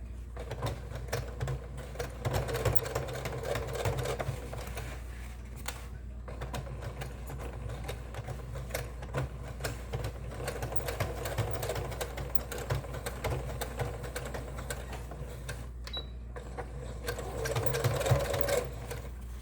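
A sewing machine stitches through thick jeans fabric around a zipper, running in a steady, continuous mechanical whir that stays close and fairly loud for the whole stretch, with only slight variations in pace.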